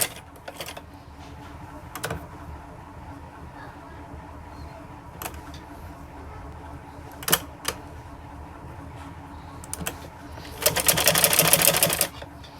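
A sewing machine stitching pieces of kurti fabric: mostly quiet room tone with scattered clicks, then a denser mechanical whir of stitching for about a second near the end.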